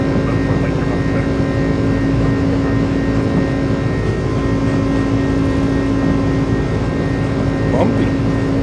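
Steady, loud roar and whine of the iniBuilds A300 airliner's engines at takeoff power in Microsoft Flight Simulator, a constant droning hum with a tonal whine throughout, with a voice talking over it.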